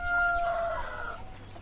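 Chickens on a free-range farm with ducks nearby, one crowing in a brief drawn-out call followed by soft clucking, moderately close.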